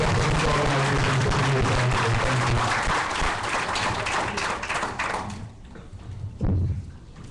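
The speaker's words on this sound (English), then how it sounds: "please, a big applause for always using Jamaica" A concert crowd at a Jah music event breaks into loud, dense applause that holds steady for several seconds, then drops off sharply, leaving a few scattered claps and a brief final burst.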